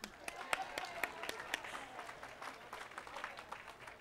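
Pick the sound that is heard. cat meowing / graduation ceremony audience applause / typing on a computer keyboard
graduation ceremony audience applause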